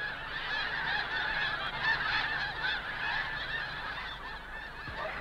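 Wild snow geese honking as a flock, dense overlapping nasal calls running continuously at an even level with no voices over them.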